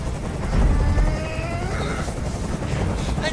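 In the video game Detroit: Become Human, a helicopter hovers close by, its loud rotor drone rumbling continuously with deep throbbing low end, and faint voices sit beneath it.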